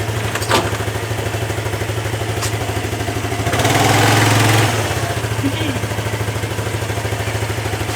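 Piaggio ET4 scooter engine idling steadily and close, with a brief surge around the middle as it struggles to rev before dropping back to idle; no clear talk over it.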